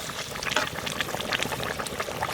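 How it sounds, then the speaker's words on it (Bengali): Hilsa fish curry with potatoes at a rolling boil in the pot. Dense, rapid bubbling and popping sounds up close and fairly loud, with no voices. "খুব সুন্দর ঝোল ফুটে গেছে আর আলুটাও সেদ্ধ হয়ে গেছে"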